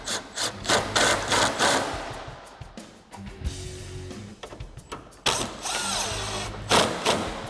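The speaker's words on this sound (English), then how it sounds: "I'm going to use my gun with my 10 millimeter socket," An impact gun fitted with a 10 mm socket tightens bolts while headlights are installed on a 2005-2009 Mustang. A brief whirring buzz sits among close mechanical clatter and ratcheting clicks.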